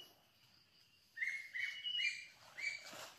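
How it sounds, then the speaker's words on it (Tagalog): Several bird chirps arrive in short bright bursts after a quiet start, with a few calls overlapping near the end, fairly close and moderately loud over faint background hiss. "may mga ibon na hindi natin alam kung normal ba yan na ibon"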